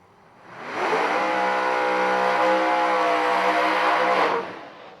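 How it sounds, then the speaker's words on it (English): A radial drag race car driven by Phil Hines holds a high-RPM burnout at the track, its engine swelling in, sustaining a loud, steady harmonic roar for about three seconds, then cutting off sharply, with no talk over it. "listen to the burnout from Phil Hines on the left-hand side of the racetrack"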